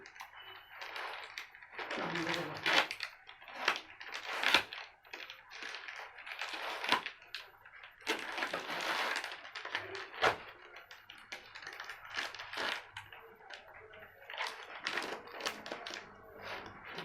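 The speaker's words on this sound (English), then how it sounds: "I think I should use a knife, a paper cutter to open this." A paper cutter slices open an Amazon package, giving a long stretch of scraping, rasping cuts and crinkling cardboard and plastic, broken by sharp taps and clicks, all fairly close and quiet.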